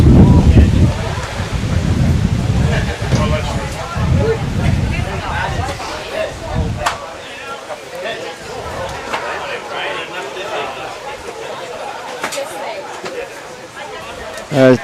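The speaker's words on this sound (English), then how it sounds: "A little bit of thunder in it by the sounds of it though." Low rumbling thunder from a single passing storm cloud over an outdoor lawn bowls green during a Premier League match, heavy at the start and fading into a quieter background as commentators and crowd murmur continue.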